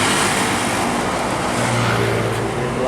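The Blue Sea Sadaya truck rolls past on a fast road with a dense, steady roar of engine and tyre noise, close and loud for the whole moment.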